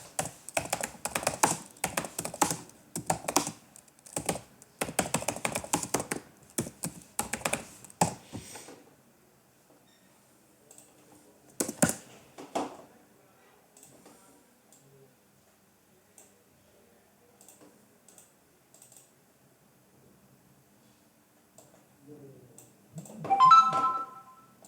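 Typing on a computer keyboard, bursts of rapid clicking keystrokes for the first several seconds, then a few isolated taps over near silence, ending with a short electronic tone.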